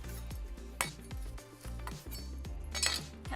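Knife quartering a vegetable on a board among roast vegetables such as pumpkin and sweet potato, a few sharp close clacks and taps of the blade with light clinking of utensils, no voices.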